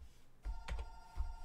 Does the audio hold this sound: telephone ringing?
yes